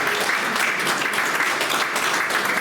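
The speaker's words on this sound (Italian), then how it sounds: "Da voi un applauso a Peppino da Noera" An audience breaks into sustained applause for the improvising poet Peppino da Noera at a local gathering, dense clapping throughout with no talk over it.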